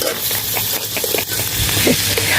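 Crab and shrimp stir-frying in a hot pan for Thai curry-powder crab, a dense continuous sizzle with stirring scrapes, loud and close without speech.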